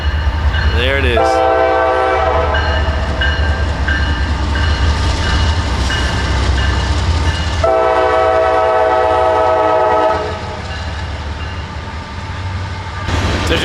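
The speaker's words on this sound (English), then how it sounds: "there comes the train" A train passes close by, sounding its horn in long blasts at the start and again midway over a continuous loud rumble and rolling rail noise that eases toward the end.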